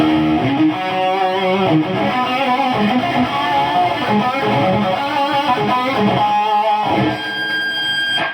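Heavily distorted electric guitar through stacked distortion pedals fills the clip with dense, buzzing chords and harsh noisy sustain, loud and continuous with a brief dip near the end.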